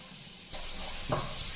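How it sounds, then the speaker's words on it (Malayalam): Onions sautéing in coconut oil in a pan, a soft hiss that jumps louder as they go in, then a steady close sizzle with a brief stir partway through. "ആദ്യം നമ്മൾ ഉള്ളിയെല്ലാം കൂടെ അങ്ങോട്ടിട്ട് ഒന്ന് വഴറ്റിയെടുക്കണം"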